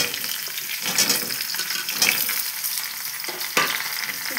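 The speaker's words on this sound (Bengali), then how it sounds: "এবার আমি কড়াইয়ের মধ্যে আমগুলো দিয়ে দেব।" Raw mango pieces fry in hot oil in a wok for a sweet pickle, giving a continuous close sizzle broken by several stirring scrapes.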